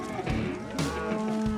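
Yearling cattle standing in a field moo loudly and close by, with two or three overlapping calls across a short stretch.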